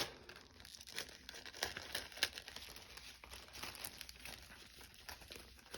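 A crinkly plastic package is opened by hand in a quiet room, giving faint bursts of crackling, crumpling and tearing in uneven clusters, with no speech.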